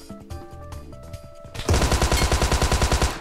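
Automatic gunfire in the PUBG Mobile Metro Royale mode erupts halfway through as a loud, rapid rhythmic burst of shots, after quieter game sounds and music tones in the first half.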